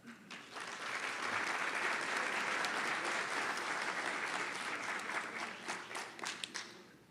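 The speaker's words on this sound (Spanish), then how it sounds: "para quienes pido un fuerte aplauso" Strong, sustained audience applause at a public speech event, dense clapping from a large crowd that swells quickly, holds steady, then thins into scattered claps at the end.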